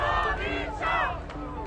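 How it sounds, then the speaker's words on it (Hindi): Crowd of protesters in Iran chanting slogans in unison, loud rhythmic shouted bursts from many voices with a constant crowd roar beneath. "प्रदर्शनकारी यहां रजा पहलवी नाम के नारे लगा रहे हैं"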